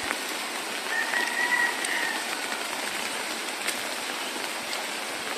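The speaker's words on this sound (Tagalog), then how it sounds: "umuulan na naman" Steady rain falls on a garden of betel leaf vines, a dense, even hiss that continues through the whole stretch with no talking.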